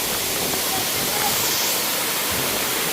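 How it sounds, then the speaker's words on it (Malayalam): A waterfall at a resort, a loud, steady, close roar of rushing water filling the whole clip without pause. "ഭയങ്കര മനോഹരമായ വെള്ളച്ചാട്ടം"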